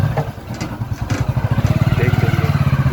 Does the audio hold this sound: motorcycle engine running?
yes